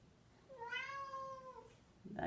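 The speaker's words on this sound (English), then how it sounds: "then do a loud meow to hear the echo of her voice" A cat gives one loud, drawn-out meow that rises and falls, ringing with a noticeable echo in an indoor space, followed by a short rustle.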